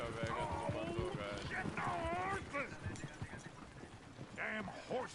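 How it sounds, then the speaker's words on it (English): Horses clip-clop in the Red Dead Redemption 2 video game, their steady hoofbeats sounding close beneath game characters talking, with a brief whinny near the end. "Damn horses."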